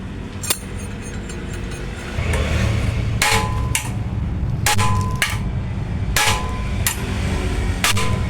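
A hammer knocks out a ball joint from the upper and lower control arms of an Isuzu D-Max All New pickup, sharp metallic strikes landing singly and in quick pairs over a steady background hum.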